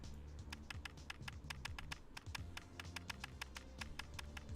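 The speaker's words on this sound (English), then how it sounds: "Sarah began typing away." A keyboard typing sound effect from the Ever17 visual novel plays as rapid, evenly spaced crisp key clicks over a low background hum throughout.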